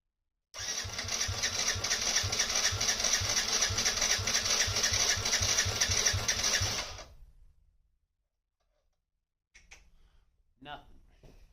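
A Yamaha Raptor ATV engine cranks over on choke, a steady loud rapid mechanical chug for about six seconds that stops without catching, followed by quiet and a few faint clicks and handling noises.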